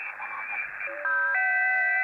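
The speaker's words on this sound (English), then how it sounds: "there is some noise on the band" An HF amateur radio receiver gives off a steady hiss of band noise, with FT8 digital signals appearing partway through as several sustained, overlapping pure tones.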